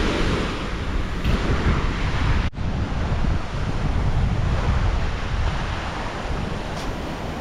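Surf washes continuously onto the shore of Koh Sanloem island in Cambodia, a broad, loud roar mixed with heavy wind buffeting the microphone.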